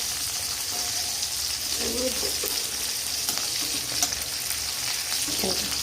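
Green chilies roast in a kadhai with a steady, fine sizzle and crackle, heard up close under occasional light stirring and brief bits of a voice.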